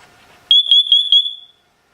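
A Siterwell hardwired interconnected smoke and carbon monoxide detector sounds a loud, shrill electronic alarm, a short burst of rapid pulsing beeps merging into one piercing tone, heard up close and alone.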